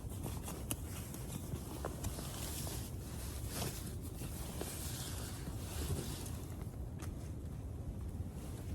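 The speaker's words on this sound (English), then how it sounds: "it's windy" Strong wind buffets the microphone at a cold tent campsite in 34-degree weather, a continuous roaring rush, loud and steady throughout with occasional gusty swells.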